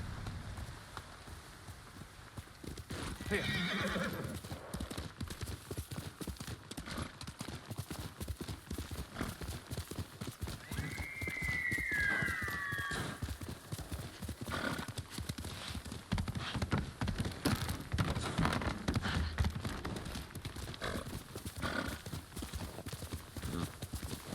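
A horse in the video game Ghost of Tsushima gallops with a steady, rapid clip-clop of hooves, close and continuous, over a soft patter of rain, with one brief whinny partway through.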